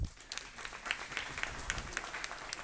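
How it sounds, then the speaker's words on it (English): An audience at a city council candidate forum claps, a modest burst of distinct, crisp hand claps with audible individual strikes, steady but not thunderous, carrying on for a few seconds in a hall. "go ahead, you can clap if you'd like to"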